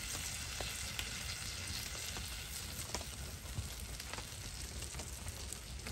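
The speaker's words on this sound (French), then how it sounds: "Ah ouais, là, ça grésille" Steady close sizzling and crackling of butter in a hot pan at an outdoor forest camp, continuous with small pops throughout, no voices.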